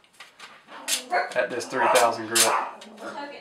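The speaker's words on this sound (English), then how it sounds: "You can hear my dogs barking." Dogs bark in short, sharp bursts in the background of a knife-sharpening session on a 3000-grit stone. Someone talks over the barking throughout.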